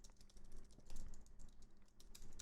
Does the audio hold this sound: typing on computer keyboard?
yes